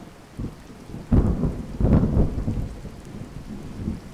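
Rain falls steadily in the Cube Life video game while thunder cracks and rumbles in several loud bursts, the heaviest near the middle, fading to a softer downpour afterward.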